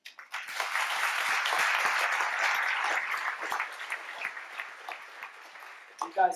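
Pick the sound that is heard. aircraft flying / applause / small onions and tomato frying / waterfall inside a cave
applause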